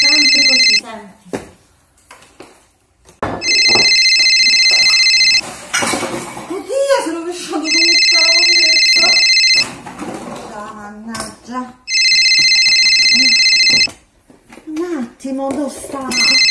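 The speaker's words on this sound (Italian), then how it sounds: "squilla il telefono" A telephone rings in repeated bursts with pauses between them, while a voice talks and dishes clatter nearby.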